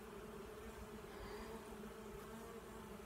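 A swarm of honeybees hums in a dense, continuous drone as they settle into a new hive, the buzzing steady and close throughout with no voices.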